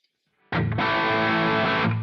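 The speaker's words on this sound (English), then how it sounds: "Let's go ahead and we'll try that through a V30 cabinet." A single loud distorted electric guitar chord through an amp capture on a Quad Cortex, played into a V30 cabinet, struck once after a brief pick scrape and left ringing for about a second and a half.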